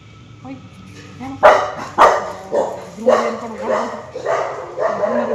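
A dog, with a black dog mentioned among those present, barks repeatedly at a house in a rural home setting, a string of loud, evenly spaced barks close by while people talk in the background.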